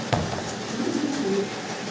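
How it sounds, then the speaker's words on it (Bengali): A pair of high flyer pigeons at a breeder's farm coo softly and steadily in low rolling tones, close by and alone, with no talk. "যারা হাই ফ্লায়ার কবুতর পছন্দ করেন তারা এই চমৎকার জোড়াটা সংগ্রহ করে নিতে পারেন"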